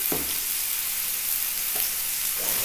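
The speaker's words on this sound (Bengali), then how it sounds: "এর মধ্যে মশলাগুলো আমি অ্যাড করে দিই একে একে। তা ভাজার জন্য 5 মিনিট তো আমাকে টাইম দিতেই হবে।" Spices fry in a nonstick pan with a steady, close sizzling hiss, broken by a few soft clinks and scrapes of stirring.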